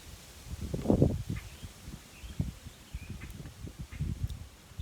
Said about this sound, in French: Désolée parce qu'il y a beaucoup de vent.